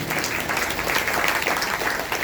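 An audience at a Bhagavat Katha religious gathering claps, a dense, steady round of applause heard continuously without a pause.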